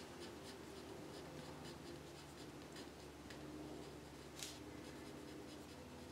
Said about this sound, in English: So I'll actually just write the paragraph here.